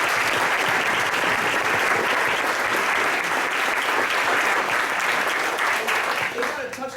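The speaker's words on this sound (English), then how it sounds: "they deserve a round of applause" Loud, sustained applause from a large crowd at a school board of education meeting, steady clapping filling the whole stretch before it starts to taper at the very end.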